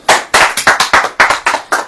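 Audience clapping in rhythm at a Christian preaching service, with about eight sharp, evenly spaced claps in a loud burst and no talking over them.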